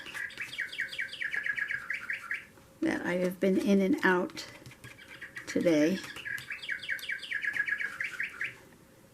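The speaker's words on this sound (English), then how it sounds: "You can tell by how many times my bird clock goes off" A bird-call clock plays repeated chirping, tweeting song in a few spaced bursts, moderately close, with a person speaking briefly between and over the calls.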